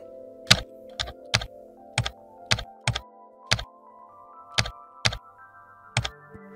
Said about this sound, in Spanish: hay un sonido de teclado por software bastante desagradable